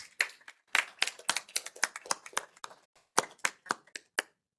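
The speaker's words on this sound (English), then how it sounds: "Round of applause for our fathers." Scattered hand claps from an audience at a governing board meeting, a thin, uneven round of applause in quick bursts with a short pause, fairly faint and without talk.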